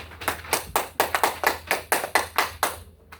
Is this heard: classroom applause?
yes